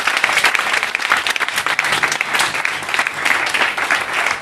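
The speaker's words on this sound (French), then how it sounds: "Clap for Jesus." Church congregation clapping steadily throughout, a dense continuous wash of many hands at close range, with no speech over it.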